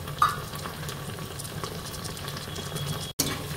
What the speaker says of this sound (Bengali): টমেটোটা ভালো করে মিশিয়ে নেব এটার সাথে